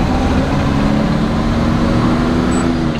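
Classic Oldsmobile Cutlass 442 muscle car cruising, a steady low engine drone heard from inside the cabin, smooth and continuous with no talking.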